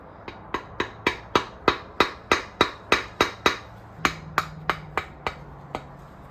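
Metal tapping on a Ford 5.4 engine part being seated: a steady run of about twenty sharp, close hammer taps in even rhythm, with no talk.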